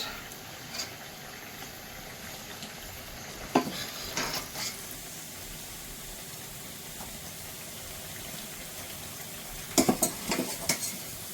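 Southern-style okra fries in a pan with a low, steady sizzle, broken by a few louder clatters and scrapes of pieces being stirred and lifted out.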